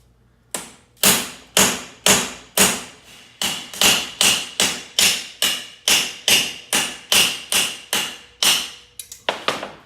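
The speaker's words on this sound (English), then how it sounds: "using the rounded end of the ball peen hammer and hammering along the edges of the strap steel," The rounded end of a ball peen hammer cold-hammers along the edges of steel strap, about twenty sharp, ringing metal blows landing in a steady, evenly spaced rhythm, close and loud, ending with a few quicker taps.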